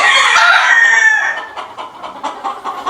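Rooster crows loudly and close at a gamefowl farm during early-bird season, one long drawn-out call followed by scattered clucking and calls from other chickens around it.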